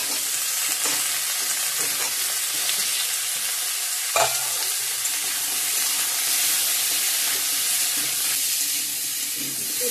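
Potatoes and crushed ginger fry in a pan with a steady, close sizzle, broken by scraping stirs and one sharp knock near the middle.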